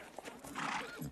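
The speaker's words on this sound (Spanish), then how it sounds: "Sujetad el caballo." A horse neighs nervously at a wedding ceremony, a brief rising-then-falling whinny close by, with faint shuffling around it.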